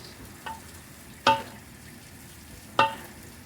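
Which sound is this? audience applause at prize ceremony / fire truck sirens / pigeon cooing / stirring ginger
stirring ginger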